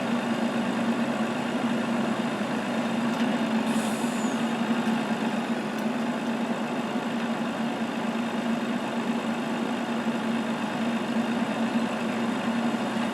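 A truck in Farming Simulator 19 drives with a steady, droning heavy engine hum that stays constant and fairly loud throughout, with no voices.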